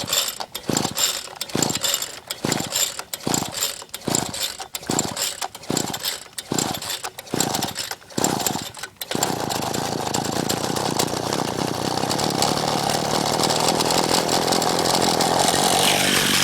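An MVS 10 gas scooter engine is pull-started cold with the choke on: about nine sharp, evenly spaced cranking pulls, then the small two-stroke catches and runs on at a loud, steady, buzzing idle close by.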